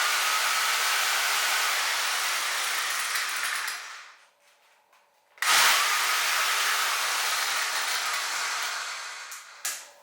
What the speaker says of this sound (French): on va vérifier quand même que le mode perforateur fonctionne